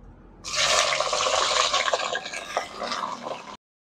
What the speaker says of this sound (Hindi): तेल हमारा अच्छे से गर्म हो गया है सबसे पहले हम क्या करेंगे बैंगन इसमें डाल देंगे